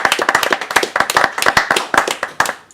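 A small group of guests at a dinner event in Chambéry clap their hands, producing crisp, closely spaced claps that stay loud and near with a slightly irregular rhythm.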